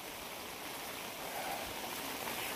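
Heavy monsoon rain pouring steadily while overflowing drain water floods across a village road, a dense continuous hiss with no breaks and no voices.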